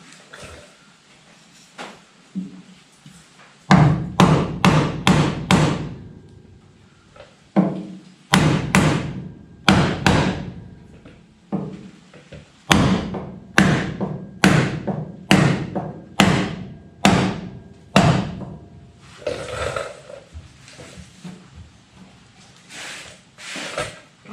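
A hammer strikes car door metal during a door gap repair in a garage, loud metallic thuds landing in rapid bursts of several blows with short pauses between, close up.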